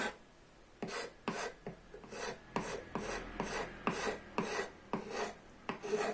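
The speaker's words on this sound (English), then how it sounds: "have to be careful with this card scraper" A card scraper shapes the wooden frame of a handmade bow-saw, giving a series of about ten close, rhythmic rasping strokes with brief pauses between them and no talk.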